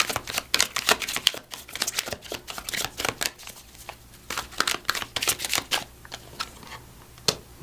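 A Millennium Thoth Tarot deck is shuffled close up, its cards riffling and slapping together in quick irregular bursts with brief pauses between, crisp and alone.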